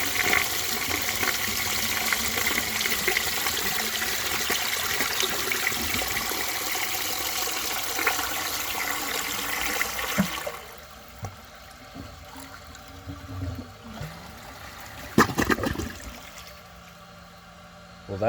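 A 1927 Peerless low tank toilet flushes a dish towel, a loud rushing gush of water lasting about ten seconds, then quieter trickling and tank refill with a few bumps and clunks.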